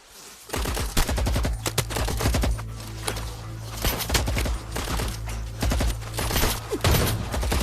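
Rapid gunfire fills an action-movie scene, a dense loud fusillade of overlapping shots and bursts that runs almost without pause, with no voices heard.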